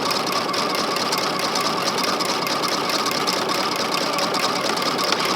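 A sewing machine with a piping foot runs steadily, stitching cording into piping along a quilt binding edge, its fast even hum and rattle continuing without a break at close range.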